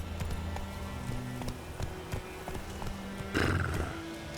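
The horse Roach gallops in The Witcher 3 with steady, rhythmic hoofbeats, then gives a short whinny near the end over a low ambient game backdrop.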